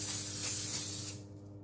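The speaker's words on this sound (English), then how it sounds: "Just spray each one with your seal spray" Seal spray hisses steadily onto pieces of Tiroler cake, a close, bright aerosol spray that runs for about a second before cutting off, leaving a low hum.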